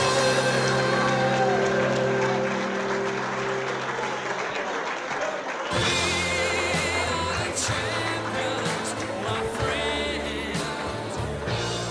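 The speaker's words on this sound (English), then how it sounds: "How about a big round of applause for Mark Robin?" A large audience at the LBCC Hall of Champions ceremony gives a loud, sustained round of applause for an inductee, the clapping swelling partway through and running under music without a break.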